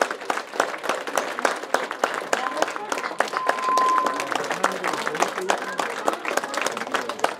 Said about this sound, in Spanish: Otro aplauso muy fuerte, músicos